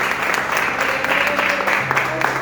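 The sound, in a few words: congregation applause at a church service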